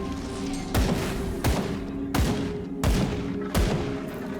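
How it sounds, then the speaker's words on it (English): A grenade detonates in the action role-playing game Grim Dawn amid a run of heavy blasts, five sharp booming impacts spaced evenly under a constant low rumble of combat, loud and close. "Let's throw a grenade at them."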